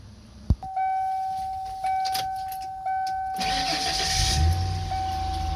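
A 2000 Ford E150 van with a 4.2 V6 starts after a key click, with a chime sounding over it, then the engine catches and settles into a close, steady idle.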